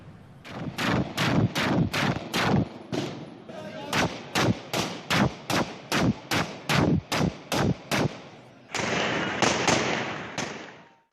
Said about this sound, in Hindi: इतनी शदीद फायरिंग की गई और अभी तक ये सिलसिला वक्फे से जारी है